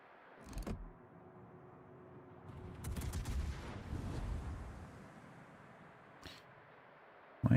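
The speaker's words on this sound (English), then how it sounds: "Why is everyone shooting me?" Gunfire strikes the player's ship in World of Warships, a naval video game, as scattered sharp shots and a sustained rumbling barrage of cannon fire, moderately loud with brief pauses between bursts.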